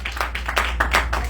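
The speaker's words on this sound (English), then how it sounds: "Clap your hands for the God of glory." A church congregation claps hands in steady rhythm, about a dozen even claps over a low constant hum.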